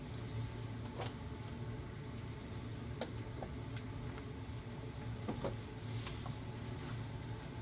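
A feeder cricket offered to a tarantula chirps in quick, evenly spaced high pulses, a steady run, a pause, then a shorter burst, against a low room hum with a few faint knocks.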